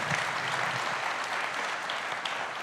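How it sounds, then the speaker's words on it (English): Audience applause rises at a Global Citizen Prize event, a soft steady patter of many hands clapping at a moderate distance, even and unbroken for the whole stretch with no voices over it. "Big round of applause."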